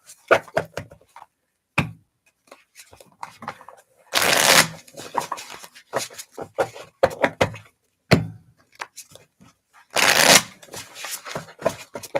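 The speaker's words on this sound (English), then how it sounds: "Pull some cards." Tarot cards being shuffled for a reading, two dense bursts of riffling between scattered taps and soft handling noises, close and fairly loud.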